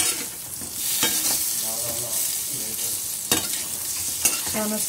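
Fried methi vadas are tossed in a pan with turmeric, asafoetida and leaves, a steady sizzle broken by a few sharp spoon scrapes. A voice briefly says a couple of words near the start.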